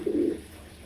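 One brief, low coo from a fancy pigeon sounds close by, then fades into quiet room noise.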